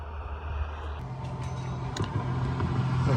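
Busy highway traffic heard from a parked truck, a continuous low engine and tire rumble with vehicles passing close by, growing slightly louder toward the end.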